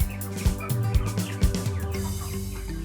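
A flock of farm chickens raised in batches calls out in rapid, overlapping clucks and squawks, close and fairly loud, with several birds sounding at once in an uneven rhythm.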